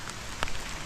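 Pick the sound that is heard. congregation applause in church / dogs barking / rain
rain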